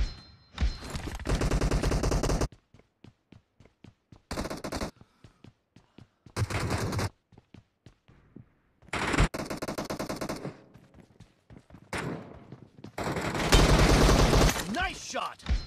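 Video game gunfire in rapid automatic bursts, loud and close, with several sustained volleys separated by short pauses and scattered single shots between them.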